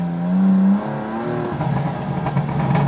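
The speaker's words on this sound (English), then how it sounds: "I want you guys to hear the downshifts on this car. Oh, and just those BMW crackles." A BMW M4 CS fitted with aftermarket software downshifts, its engine blipping and dropping in pitch before the exhaust pops and crackles in a rapid sputtering series, loud and close.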